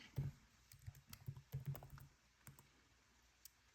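Quiet, close computer keyboard typing in short uneven bursts of clicky keystrokes, tapering off toward the end.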